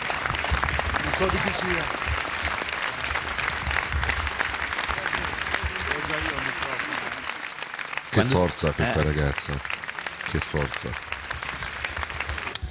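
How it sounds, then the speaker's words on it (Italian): Sustained applause from a large crowd at Marco Simoncelli's funeral as his coffin passes, continuous clapping with an Italian commentator's voice speaking over it throughout. "Una bara applaudita."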